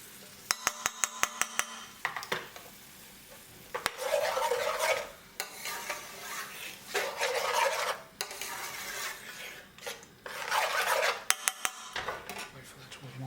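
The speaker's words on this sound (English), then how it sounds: "You just mix it" Veg vindaloo sauce being stirred in a pan on the gas gives rhythmic wet scraping bursts of a spoon against metal, with sharp clinks at the start and again near the end.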